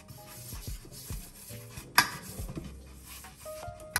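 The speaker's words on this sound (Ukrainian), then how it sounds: "Змастимо наше дерево." Olive oil spread by hand over a wooden bread-baking board: soft scattered rubs and scrapes with a few light knocks and one sharper clack, close and quiet, no talking.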